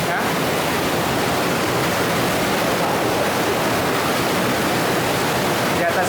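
An underground river rushing beneath large rocks inside a cave, a loud, constant broadband roar of flowing water that fills the whole stretch with no pauses.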